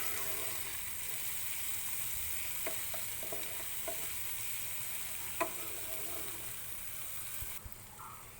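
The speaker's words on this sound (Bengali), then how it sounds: "এবার আমি একটু ভালো করে নেড়ে নিচ্ছি" A spice mixture with half a spoon of turmeric and a spoon of salt sizzles in a pan while being stirred. Soft, even frying hiss runs throughout, with a few faint scrapes and taps of the stirring utensil.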